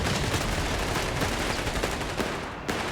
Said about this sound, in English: My mortar should be hitting this by now.